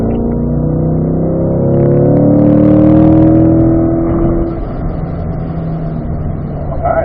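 A car on a race track accelerates hard up a hill and shifts up to fourth gear, its loud, close engine note climbing steadily and then dropping after the shift before building again.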